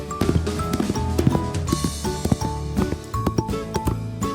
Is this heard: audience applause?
no